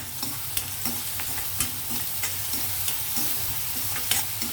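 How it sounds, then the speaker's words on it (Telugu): Onions fry in a pan for a protein-rich dal curry, a close, steady sizzle with regular scraping strokes of a spoon stirring through them. "ఉల్లిపాయలు చక్కగా వేగుతున్నాయి కదండి"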